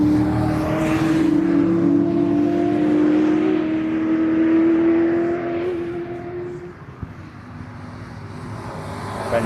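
Race cars in a 750 Motor Club race roar past at a circuit, a loud sustained engine drone with rising and fading pitch, then a quieter stretch as they move away.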